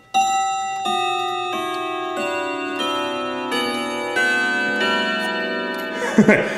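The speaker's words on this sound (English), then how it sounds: "45-minute chime, it's literally just the hammers going from right to left" Bell tones ring out from a clock's 45-minute chime as its hammers are moved by hand from right to left, a slow sequence of clear struck notes with long ringing decay, up close, ending in a brief handling clatter.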